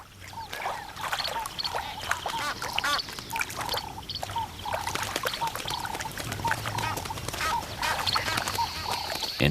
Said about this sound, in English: Egyptian geese fight not only with their beaks, but with the hard, bony elbows of their wings